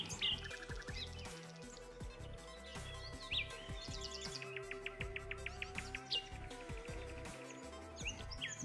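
Forest birds singing, several chirps, trills and tweets overlapping in repeated bursts, fairly near against a quiet background.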